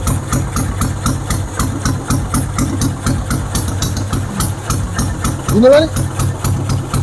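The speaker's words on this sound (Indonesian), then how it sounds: "Ini gue pakai karbu BRT 28." An engine fitted with a BRT 28 carburetor and a free-flow exhaust with no air filter idles close and loud with a fast, even pulse, while someone speaks briefly over it.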